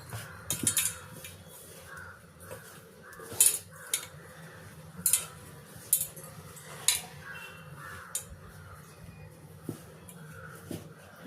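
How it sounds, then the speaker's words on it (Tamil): Milk worked gradually into gulab jamun dough in a bowl, with a utensil scraping and knocking against the bowl in irregular clinks and soft stirring scrapes, close and moderately loud, with no talking. "இப்போது கொஞ்சம் கொஞ்சமாக மில்க் ஆட் பண்ணி மிக்ஸ் பண்ணுங்கள்"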